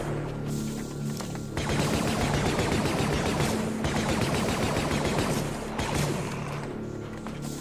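Rapid bursts of blaster gunfire in a fan-made Star Wars zombie horror video game, dense, loud and continuous with brief pauses between volleys, no talking.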